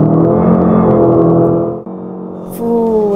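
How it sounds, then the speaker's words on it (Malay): Jaecoo J5 combustion-engine car driving on a circuit track, a steady engine drone with harmonic tones that dips briefly, then resumes with a rising whine, recorded from inside the cabin. "Cuba dengar bunyi enjin."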